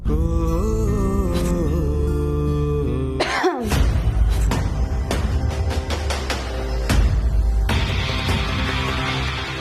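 A couple of sharp coughs or throat-clearing bursts cut through steady background music and hum, followed by scattered clicks and knocks.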